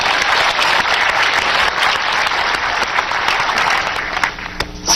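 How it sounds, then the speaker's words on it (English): Audience applause during an investment seminar: a loud, dense burst of clapping from a crowd, sustained for several seconds before tapering off, with no talk over it. "Let's give him another round of applause."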